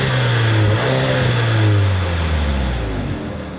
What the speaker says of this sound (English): it sounds pretty good for being a 4-banger, and you can listen to it right now.